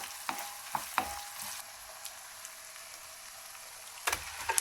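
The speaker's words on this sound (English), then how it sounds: "Let these spices braise with the onions until your whole kitchen is enveloped in that divine aroma, about 3 minutes" Fennel seeds, bay leaves and green chilies fry with onions in a pan for mutton haleem, giving a soft, low sizzle broken by sporadic sharp pops and stirring clicks, with no talking.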